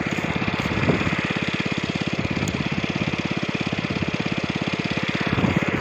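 An engine-driven water pump drones loud and close beside a pond in a paddy field, its rapid, even pulsing chug running steadily without a break.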